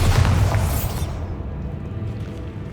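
Bombarda blasting spell in Hogwarts Legacy, a loud, deep explosive boom with a bright burst at the start that rolls into a long rumbling decay.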